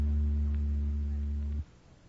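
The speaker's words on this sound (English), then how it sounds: "That was an electric oscillator you just heard, making the molecules reverse themselves about 80 times per second." An electric oscillator producing a steady low hum of about 80 cycles per second, loud and constant with faint harmonics, then cutting off abruptly after about a second and a half, leaving quiet background.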